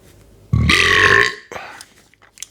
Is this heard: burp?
yes